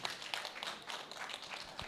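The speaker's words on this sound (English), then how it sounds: "A big hands of applause for him" Applause from an audience at an agroecology week event in Uganda, a steady dense patter of many hands clapping at moderate distance, filling the whole moment with no talk.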